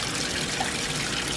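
Water pours steadily into a fish tank, a continuous loud rushing and splashing that holds at an even level throughout with no breaks.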